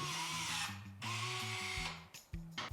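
Klauke EKSD50ML battery-powered cutting and stripping tool working through electrical cable, a steady loud motor whine in repeated bursts of about a second each, broken by short pauses and clicks.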